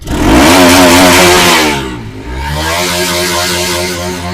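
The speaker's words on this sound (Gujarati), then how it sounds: "રેસ આપ્યા ટાઈમે તો એન્જિનમાં કંઈ પ્રોબ્લેમ હોય તો આપણે રેસ આપીને ચેક કરશું" A Bajaj Pulsar RS 200 motorcycle engine revs hard and loud, holds high, then drops back to a steady idle, close by with no voices.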